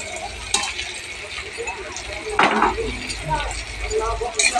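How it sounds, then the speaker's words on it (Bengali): Fried cauliflower stirred in a pan for mung dal, with scattered clinks and scrapes of a utensil against metal over a low sizzle, while a voice talks throughout. "ভেজে রাখা ফুলকপিগুলোকে আরেকটু দিয়ে নাড়তে থাকবো"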